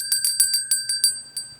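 A bright bell notification chime rings in a rapid series of about eight clear metallic dings, close and loud over near silence.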